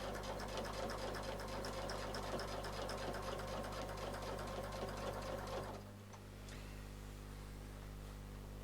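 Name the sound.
sewing machine stitching a quilt around a circle template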